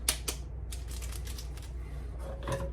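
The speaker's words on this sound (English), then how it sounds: "Trusty scissors." Sharp snipping and crinkling as scissors cut open a chicken-flavour ramen seasoning packet in a kitchen, a few quick close cuts with light rustling of the packet.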